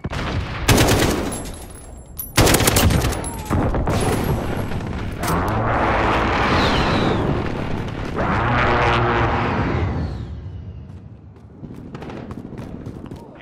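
Enemy precision airstrike in Call of Duty: a run of loud, close explosions and heavy booming blasts, with rattling gunfire bursts at the start and rumbling impacts that fade toward the end.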